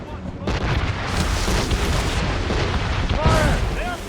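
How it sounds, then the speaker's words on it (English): Ship mortar fire in the naval battle of Assassin's Creed Rogue, with loud sustained booming and rumbling blasts that roll on continuously, a sharper burst near the end, and shouting voices mixed in. "We should fire our mortars, Captain!"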